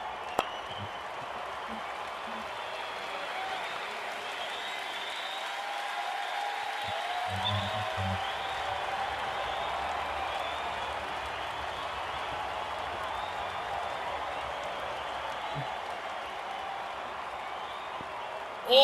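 Steady crowd applause and murmur from an IPL cricket video game match between RCB and KKR, a continuous broad wash of clapping held at an even level throughout, with faint commentary voice underneath.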